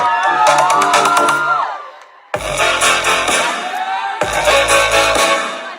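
A lively crowd at a sangeet evening cheering and shouting over loud music, with abrupt cuts between bursts of noise.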